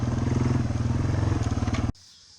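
A Yamaha TW200 motorcycle engine running close by with a fast, throbbing low-pitched idle pulse, loud and steady, cutting off abruptly near the end.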